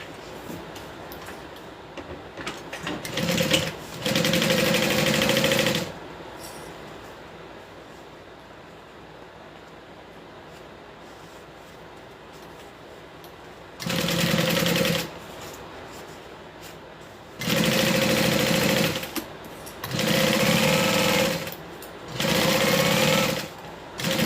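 A home sewing machine stitching down fabric for a top stitch runs in several loud bursts of rapid mechanical clatter, each a few seconds long, separated by quiet pauses.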